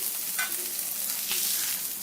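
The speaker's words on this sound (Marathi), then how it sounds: "यामध्ये हिरवी मिरची खोबरं आणि जो आपण खडा मसाला घेतलेला होता हे सर्व साहित्य आपल्याला ह्याच तव्यावर भाजून घ्यायचं आहे" Green chilies, coconut and whole spices roasting in oil on a griddle, a close, steady sizzle and crackle with faint stirring scrapes.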